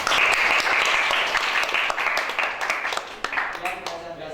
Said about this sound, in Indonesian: Kasih tepuk tangan buat